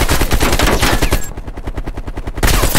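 Rapid automatic gunfire in a video game, aimed at large rocks: a steady burst of evenly spaced shots fills the whole stretch, loud and close, with no talking over it.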